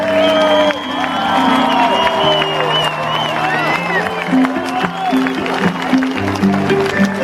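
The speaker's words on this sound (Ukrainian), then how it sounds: "Оплески для тебе." A large outdoor concert crowd in Slavske cheers and claps in tribute, with whoops and shouts over steady applause while sung voices and music ring out loudly through the whole stretch.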